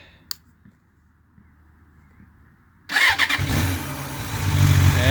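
After a quiet pause with a faint click, a 1993 Suzuki Katana 750 (GSX750FP) motorcycle engine cranks and catches, settling into a loud, steady, rumbling idle close by.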